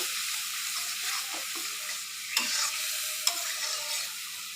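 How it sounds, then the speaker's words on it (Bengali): Turmeric, chilli, cumin and coriander spice paste with salt sautéing in oil for a pangas fish bhuna, a soft steady sizzle with two sharp spatula scrapes, close and without speech. "হলুদের গুঁড়া মরিচের গুঁড়া লবণ ধনিয়া আর জিরার গুঁড়া সব কিছু দিয়ে আমি ভালোভাবে মশলাটা একটু কষিয়ে নেব"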